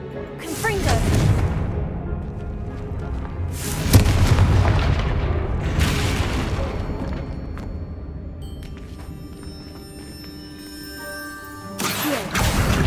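Spell blasts from the Confringo explosion charm in Hogwarts Legacy, several loud booming bursts roughly every two seconds over a dense game soundscape, followed by chiming tones.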